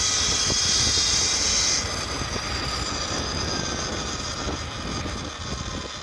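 A 2025 Surron Ultra Bee electric motorbike pulls away, its motor whine loud at first and then easing into a steady hum mixed with wind and road noise, heard from the rider's position.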